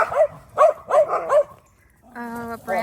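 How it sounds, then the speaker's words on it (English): Dogs playing in a backyard garden bark in several quick, close, loud bursts, followed by a brief whine or yip at the end. "that was my dogs playing."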